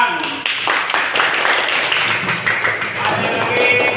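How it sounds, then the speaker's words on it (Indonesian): Classroom applause: a sustained patter of many hands clapping together, loud and close, steady throughout with voices mixed in. "Iya, tepuk tangan."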